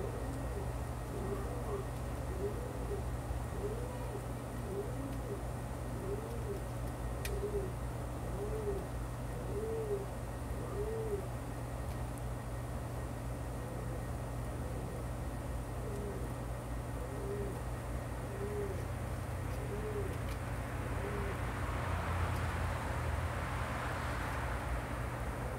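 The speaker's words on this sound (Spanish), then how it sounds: "La paloma se hace la cabrona, señor." Pigeons cooing at a loft nest box at nightfall, a steady run of soft repeated low coos over a constant hum and background noise, with a brief rise in hiss near the end.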